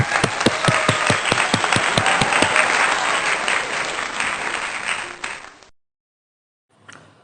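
Congregation clapping at a Sunday church worship service, a full, steady burst of applause lasting about five seconds before cutting off abruptly, followed by a brief faint sound.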